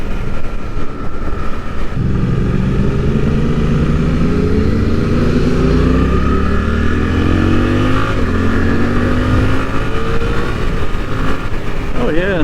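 A Suzuki GSX-8R motorcycle accelerating through the gears with a quick shifter, its engine note climbing in rising sweeps under strong wind noise. A rider talks over it.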